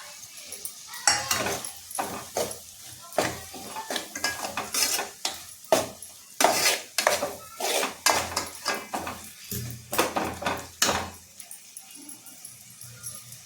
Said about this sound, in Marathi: आता आपण यात वाटण टाकायचं आहे, जे खोबऱ्याचं वाटण वाटलेलं आहे ते.